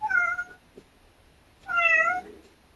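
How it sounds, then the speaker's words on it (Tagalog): A cat meows twice, close by, with a short quiet pause between the two clear, rising-and-falling calls. "may pusa kami na si Hyper, yung talkative cat namin na magro-roll siya"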